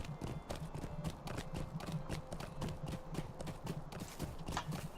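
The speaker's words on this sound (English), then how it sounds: "So, back on my horse, heading back to Waymeet to turn in this quest." Horse hooves gallop in the online game The Lord of the Rings Online, a quick, even clip-clop rhythm that continues steadily throughout at moderate volume.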